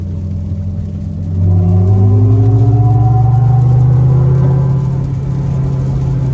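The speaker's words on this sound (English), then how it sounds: "getting on the interstate here, it's wet, but we do have four-wheel drive, so we're gonna give it a little punch" A 2024 GMC Hummer EV SUV Edition 1 with four-wheel drive accelerates hard onto a wet interstate. The loud electric motor whine climbs in pitch over deep road rumble, heard close from inside the cabin with no talking.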